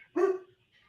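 A single close, loud dog bark rings out against an otherwise quiet room, short and sharp with a brief trailing tail.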